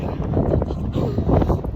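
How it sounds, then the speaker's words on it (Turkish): Loud, blustery wind buffets the microphone in continuous rumbling gusts. "Çok rüzgar var"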